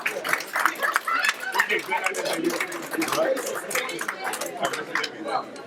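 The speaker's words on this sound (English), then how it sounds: "give yourselves a huge round of applause" Seminar audience clapping for each other after a negotiation exercise, a steady crowd of many hands mixed with chatter and cheering voices throughout.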